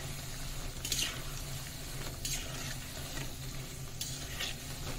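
Namak paare frying in hot oil while being stirred continuously, a constant bubbling sizzle with a few sharper scraping stir strokes at intervals, close and steady with no talking.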